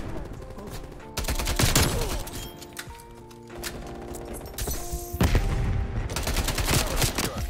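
Rapid gunfire from Call of Duty Black Ops Cold War, including a Milano 821 submachine gun, in dense bursts separated by brief lulls and echoing impacts.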